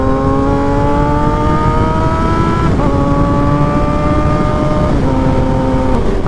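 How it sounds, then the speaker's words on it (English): A GSXR motorcycle fitted with an M4 slip-on exhaust is ridden, its engine droning loud and close with a steady, slowly falling pitch and brief shifts between gears; wind noise rushes underneath, no talking. "I did put an M4 slip-on from eBay on my bike, and it sounds amazing"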